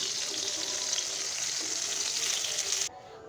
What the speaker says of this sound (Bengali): লবণটা দেওয়ার পর পটলগুলো ভেজে নিচ্ছি